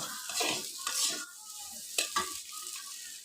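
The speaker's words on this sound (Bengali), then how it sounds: "এখন বন্ধুরা মশলাগুলো ভাজা হয়ে গেছে" Spices for a mango curry fry in a pan, with loud scraping stirs and a light sizzle, close up, in bursts of spatula strokes with no talking.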